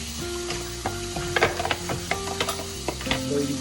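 Ingredients for fish adobo hit a hot pan and fry with a steady close sizzle, broken by clattering stirs and utensil knocks against the pan throughout.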